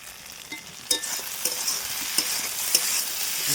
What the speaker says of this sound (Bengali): মশলা থেকে চিপচিপ করে তেল বেরিয়েছে আর মনে হচ্ছেই যে ভাজা ভাজা হয়ে গেছে